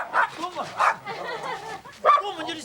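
Dogs barking at a tiger in snowy country, several loud yapping barks and whines close by, with people talking among them.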